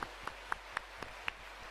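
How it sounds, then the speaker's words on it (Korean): A church congregation claps together for the choir, a steady patter of many hands with a few sharper claps standing out, moderately loud in a large hall. "박수 한번 합시다."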